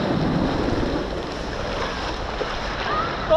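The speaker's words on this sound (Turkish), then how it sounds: "Dalga geliyor." Sea waves rolling in at the shore: a steady broad wash of surf with wind buffeting the microphone, close and continuous, without clear talk.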